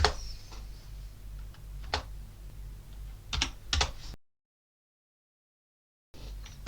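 Someone types a Linux terminal command on a computer keyboard in quick bursts of close, crisp key clicks, then goes quiet for about two seconds before more faint keyboard activity.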